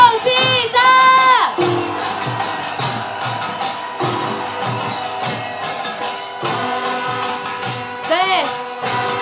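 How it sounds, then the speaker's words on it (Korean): Marchers at a candlelight rally near the Japanese embassy in Seoul let out a loud sustained cheer, followed by amplified voices over a PA and scattered shouts from the crowd. "함성 한번 질러보겠습니다. 함성 시작!"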